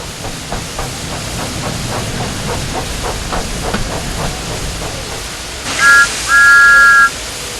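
A steam locomotive's whistle blows in two bursts, a short toot and then a longer shrill blast, over rhythmic chuffing and steady hissing steam.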